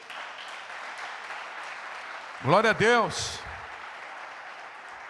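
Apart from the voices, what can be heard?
congregation applauding in church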